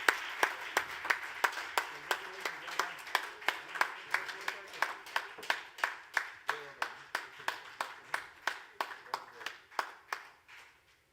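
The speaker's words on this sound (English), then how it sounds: "Another round of applause, please, for our category winner" At an awards ceremony, a category winner for women-owned business is honoured with rhythmic, evenly spaced claps, loud and regular, that carry on for over ten seconds.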